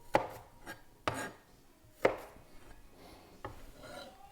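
A knife chops through mandolin-sliced onion slices on a cutting board: four distinct close thuds at irregular spacing with soft sliding scrapes between, no talking.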